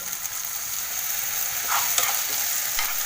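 Noodle vegetables stir-fried over a high flame with pepper and vinegar make a constant, hissing sizzle, broken by a few scraping stirs of the spatula in the pan.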